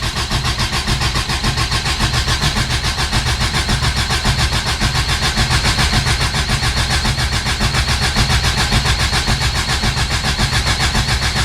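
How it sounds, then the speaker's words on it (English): A 1981 Subaru EA81 engine cranks over continuously on its starter, a loud, close, rapid rhythmic chugging that stays even for about eleven seconds without firing and without any voices. "Cranking over."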